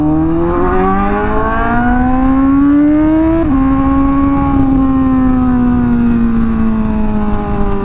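Honda Fireblade motorcycle engine revving up hard, its pitch rising through a gear change around the midpoint and then climbing again, loud and close with no talk.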